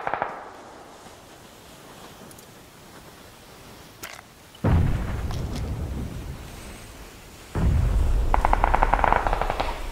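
Gunfire in a video-game firefight: a short burst near the four-second mark, then two loud, sustained bursts of rapid shots, the last rattling steadily to the end, with quieter ambience between.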